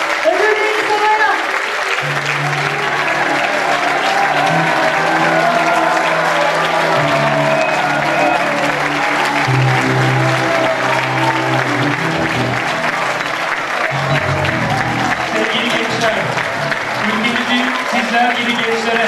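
Sustained applause from an audience at a school success award ceremony honouring students and teachers, a dense, steady clatter of many hands that fills the whole stretch at full loudness with no pauses.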